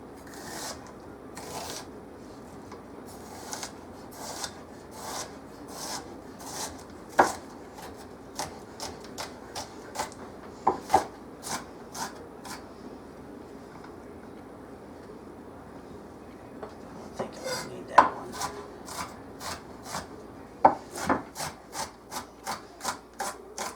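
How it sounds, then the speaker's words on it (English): Knife rough chopping an onion for meatloaf on a board, a series of sharp irregular chops and scraping rubs over a quiet room background, with denser bursts of quick cuts toward the end. "I'm going to cut up this onion real quick. Okay. I'm just going to rough chop it."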